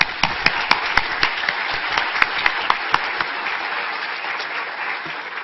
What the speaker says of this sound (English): Will you join me in a much-deserved round of applause for these efforts?